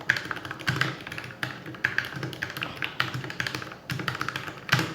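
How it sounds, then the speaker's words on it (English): Rapid steady typing on a mechanical keyboard with linear switches and white PBT keycaps, 75% layout, hot-swappable; dense clacks close and clear, no talking. "I'll give you guys a quick typing sample right now."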